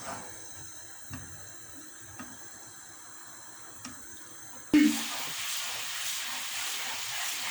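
Butter melting in a pan for homemade summer halva, a soft steady sizzling hiss that starts abruptly midway and continues close and even, after a quieter stretch with faint clicks.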